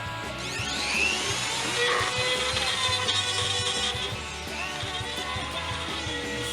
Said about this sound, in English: The Dremel, what a lovely tool.